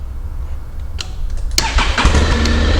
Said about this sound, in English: The motorcycle has started